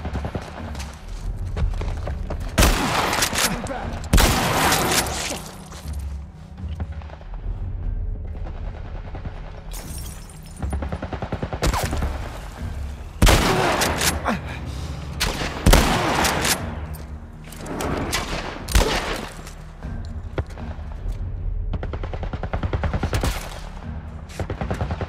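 Military turret machine gun fire in The Last of Us Part I, heavy bursts of automatic gunfire hammering repeatedly over a low rumbling game soundscape, loud and close, with pauses between volleys.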